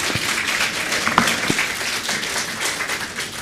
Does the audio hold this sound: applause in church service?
yes